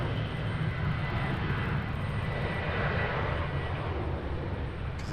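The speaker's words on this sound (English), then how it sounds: "we've got UPS departing at 8:31. Is that 767 departing?" A UPS Boeing 767 departs Raleigh-Durham International, its jet engines a loud, steady roar with deep low rumble that holds level for the whole stretch, no voices over it.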